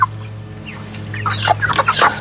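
Several chickens being handled and crated for harvest cluck and squawk close by, growing busier and louder toward the end, over a steady low hum.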